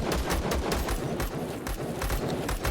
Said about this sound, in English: I'm hearing more gunfire than normal.